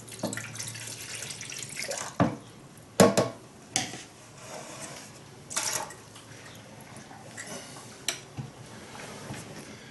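About 420 ml of water is poured into a bread maker pan for a sourdough rye loaf. Short, splashy pours and trickles come in separate bursts with quiet gaps between them, close by.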